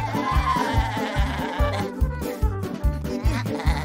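Cartoon sheep bleat in a bouncy, repeated pattern over a steady rhythmic musical beat, the wobbly cries layered loud and close across the whole stretch.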